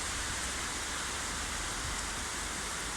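A continuous roar of heavy nighttime rain in London, close and even in level, a thick wash of falling water with no pauses and no one talking.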